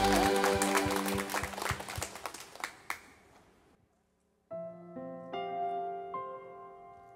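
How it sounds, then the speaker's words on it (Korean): A church congregation applauds during Wednesday worship, with dense, lively clapping for about three seconds that fades out. After a short silence, sustained worship music begins. "하나님께 우리 영광의 박수 올려드립시다."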